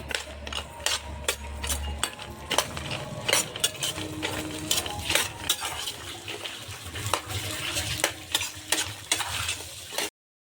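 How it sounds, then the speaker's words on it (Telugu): Peanuts and a small lime-sized lump of tamarind sizzle in hot oil while being stirred, with steady frying crackle, scraping clicks of the spoon against the pan and occasional sharper pops throughout, fairly close and without talk. "ఈ ఆయిల్లో ఫ్రై చేసుకోవాలండి."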